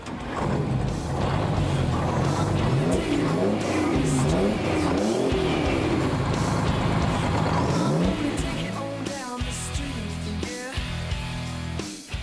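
A large V12 Detroit diesel engine in a 1975 Kenworth W900A truck roars and revs repeatedly, pitch rising and falling through gear changes, loud and nearby with a rough diesel rumble.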